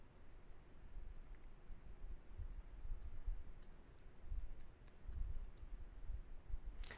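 Typing on a computer keyboard, a faint patter of quick light keystrokes in bursts over steady background hiss, the clicks growing denser in the second half.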